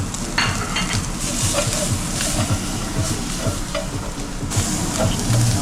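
Garlic frying in oil in a pot for a one-pot red wine beef dish gives a steady, close sizzle with soft stirring scrapes throughout.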